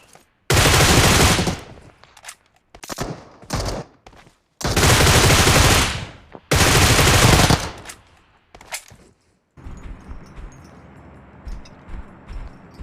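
Loud automatic gunfire in PUBG Mobile, several long sustained bursts separated by short pauses and a few single shots, then quieter game ambience at the end.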